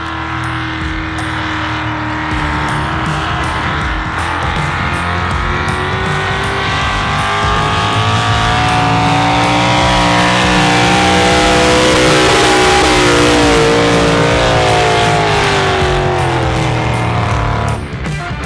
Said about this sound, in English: the tractor is pulling a sled on this dirt track